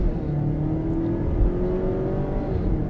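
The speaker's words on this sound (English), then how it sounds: "All right, 0 to 60 in the Ford Edge." A Ford Edge EcoBoost crossover accelerating hard from a brake-torqued launch toward 60 mph, a close, loud engine drone with rising tonal whine as revs climb through the gears.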